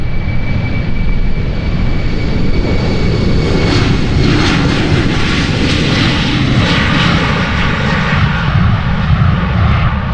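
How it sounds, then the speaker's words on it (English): An Embraer jet spools up and takes off from runway 36L at Amsterdam Schiphol, making a loud, continuous engine roar that holds steady throughout, with no talk. "That Embraer is already spooling up and rolling."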